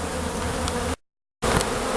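A dense swarm of agitated bees buzzes loud and close around a hive being removed from a tree in Godley, Texas, the steady drone cutting out for a short moment before resuming just as intense.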